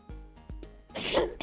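A single short sneeze near the end of a quiet stretch that holds a few soft taps and clicks, close and moderately loud.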